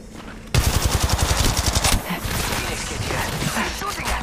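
Rapid automatic gunfire from a machine gun in the mobile shooter Apex Legends Mobile bursts in loud and close after a quiet half second, a fast rhythmic string of shots that gives way to a denser wash of battle noise.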